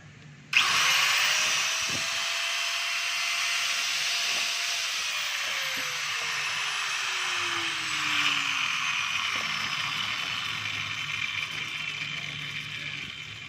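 A DeWalt DWE8200S 4-inch angle grinder, just fitted with a new cord and plug, starts abruptly, whines up to speed and runs steadily and loudly at close range, its high-pitched motor tone sliding slowly downward through the run.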